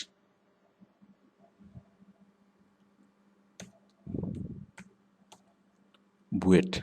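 Typing a search query into Google on a computer keyboard, a few scattered key clicks and taps in a quiet room, with two short bursts of louder clattering keystrokes.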